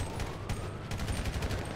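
Rapid bursts of gunfire crackle through a favela police operation video game, repeated shots in quick clusters, loud and close.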